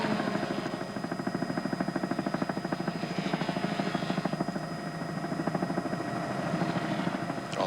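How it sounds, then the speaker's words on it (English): A Channel 7 news helicopter flies high above the Mount Panorama circuit at Bathurst, its steady rapid rotor chop pulsing evenly throughout under a constant whine. "our Channel 7 chopper high above Mount Panorama"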